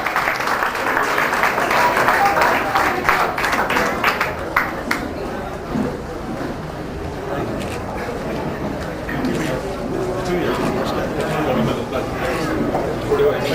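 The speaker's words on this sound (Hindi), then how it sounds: "जोरदार तालियों से उनका स्वागत करें" At a Khatri community gathering, a crowd greets film star Govinda with loud, sustained applause, dense clapping mixed with chatter and shouts over more than thirteen seconds.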